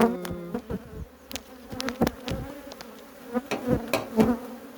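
Lively honeybees buzz loudly around an opened hive during a spring inspection, a sustained drone broken by frequent sharp passes of individual bees flying close by.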